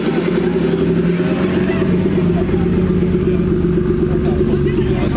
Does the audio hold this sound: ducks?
no